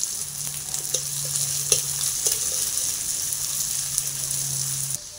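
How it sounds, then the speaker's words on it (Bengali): Chopped onions and grated garlic frying in a panch phoron tempering: a loud, close hissing sizzle with light stirring scrapes and taps, steady until a sudden stop near the end. "পেঁয়াজটা দেওয়ার বেশ কিছুক্ষণ পরে এবার দিয়ে দিতে হবে গ্রেট করা রসুন"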